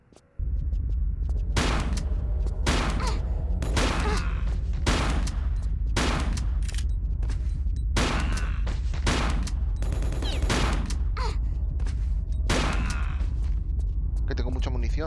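Powerful weapons fire in a Tomb Raider game level, loud repeated bursts of gunshots arriving in clusters over a constant low rumble, with game speech mixed in at times.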